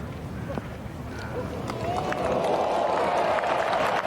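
A golf crowd in a hospitality box applauds a brilliant playoff shot by Wallace. The clapping and cheering swell from faint to a loud, sustained roar, with a commentator talking over it.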